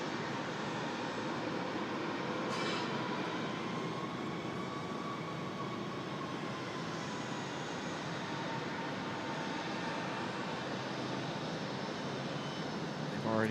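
A CRJ regional jet taxis into a gate alley at Raleigh-Durham International Airport, its engines a steady, broad whining roar that holds at the same level from start to finish, with a voice talking faintly underneath.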